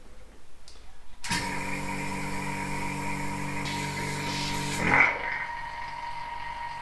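A small electric vacuum pump starts and runs steadily, drawing air out of a coolant hose on a DIY electric car heating system, with a strong tonal hum and a brief louder surge near the end before settling.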